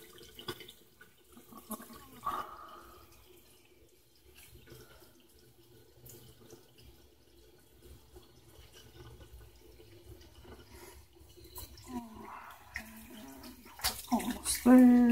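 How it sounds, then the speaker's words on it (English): Tap water running into a bathroom sink while a bentonite clay face mask is rinsed off, a soft irregular splashing and trickling that stays fairly quiet, with a louder gush of water near the end. "See, it seems to be rinsing off fairly nicely here with the water."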